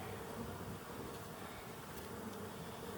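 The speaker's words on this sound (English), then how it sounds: "There's a lot of bees. I got a lot of bees on all sides." A dense, continuous hum of many bees buzzing close around a beehive in Colorado, steady and fairly quiet, with no voices.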